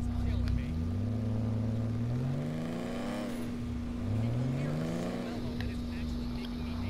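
A car engine in Grand Theft Auto V hums steadily with a couple of smooth revving sweeps, sounding synthetic, under a constant drone with talking mixed in.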